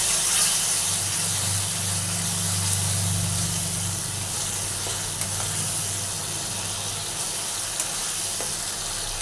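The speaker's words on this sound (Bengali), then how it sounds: "এরপর আমি কম কম জল দিয়ে এটাকে একটু বেশিক্ষণ ধরে নাড়াচাড়া করে কষিয়ে নেব।" Masala for a rohu and catla fish curry sizzles steadily in hot oil as small splashes of water go in and it is stirred, a close, continuous hiss with faint scraping.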